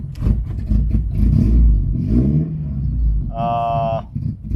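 A Cadillac with a suspected coolant or coolant-sensor fault sits running, its low engine rumble steady beneath someone talking, before a brief electronic beeping chime sounds near the end.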